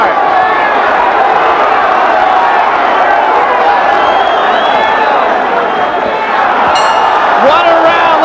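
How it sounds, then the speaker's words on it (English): Loud, roaring crowd cheering at an amateur Golden Gloves boxing match in 1993, a constant noisy din with shouts and whistles rising toward the end, mixed with excited commentary. "What a round, listen to the crowd."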